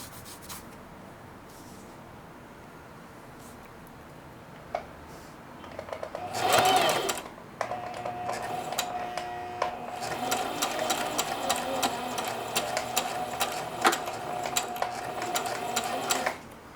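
A sewing machine runs a straight stitch on a zippered bag, starting after a brief handling rustle and then whirring steadily and close by for about ten seconds.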